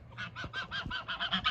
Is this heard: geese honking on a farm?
yes